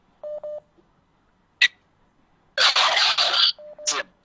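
WhatsApp call connecting on a radio phone-in show: a pair of short tones, a brief click, a burst of noisy ringing or connection sound, then another short tone pair and a chirp, with no talk.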